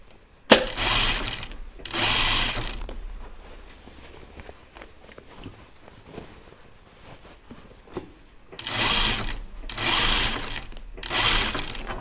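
A home sewing machine stitches a pair of Sew House Seven 'Free Range' slacks in three short whirring bursts near the start and three more near the end, separated by quieter handling noise, with no talking.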